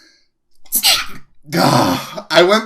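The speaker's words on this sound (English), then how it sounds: "Did you just sneeze?" A sharp, close sneeze bursts out, followed moments later by another sneeze-like burst, with a few spoken words mixed in.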